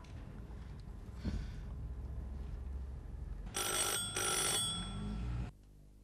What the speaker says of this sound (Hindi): गुड्डी चल नंबर मिला उनके ऑफिस का।